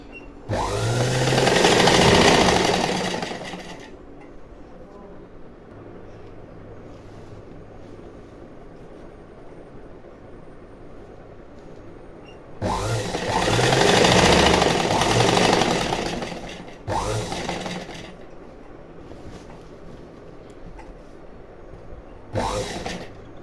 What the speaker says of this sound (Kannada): ಸೊ ನಾನು ಸ್ಟ್ರೇಟಾಗೇ ಸ್ಟಿಚ್ ಹಾಕ್ತಾ ಇದ್ದೀನಿ